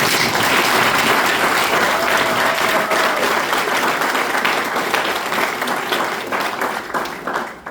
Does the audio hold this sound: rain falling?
no